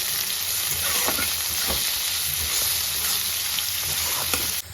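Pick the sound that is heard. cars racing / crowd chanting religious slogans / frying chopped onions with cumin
frying chopped onions with cumin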